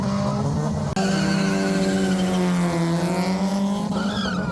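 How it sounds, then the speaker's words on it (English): A high-revving 2-litre twin-cam car engine screams at a near-constant pitch while held against the rev limiter, with one brief cut before it resumes, loud and close. "a very distinctive limiter there, the 2 litre twin cams"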